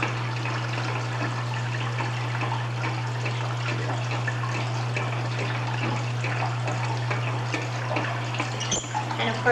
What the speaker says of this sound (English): Now what we're going to do is open these gates up on top. Let the water through.